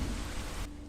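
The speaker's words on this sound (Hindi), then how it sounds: "चारों तरफ अंधेरा ही अंधेरा और ऊपर से तेज बारिश।" Heavy rain pours steadily through a dark forest night, a dense, close wash of noise with low rumbling thunder beneath it, then the downpour drops to a softer hiss near the end.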